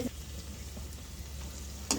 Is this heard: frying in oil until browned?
yes